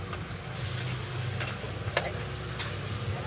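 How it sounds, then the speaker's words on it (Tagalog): Onion and garlic sauté in a hot pan while cooking lumpiang toge, a steady close sizzle and hiss with a few light stirring clicks and no talking. "Ayan, ginigisa na natin"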